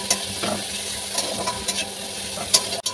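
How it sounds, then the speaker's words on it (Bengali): Onions frying in a pan with fish oil, made without added oil, give a steady, low sizzle while they are stirred, with a few scrapes of the utensil and brief clinks along the way. "চলো এখন আমি পেঁয়াজটাকে ভেজে নেব।"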